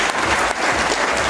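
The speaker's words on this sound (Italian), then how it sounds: "L'applauso se lo meritano loro" An audience at a live orchestra dance concert breaks into loud, dense applause, a thick wash of many hands clapping close and steady for a moment.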